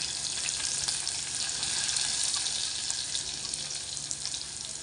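Ground spices sauté in hot oil with cumin seeds, giving a dense, continuous hiss and sizzle with faint stirring close by and no talking.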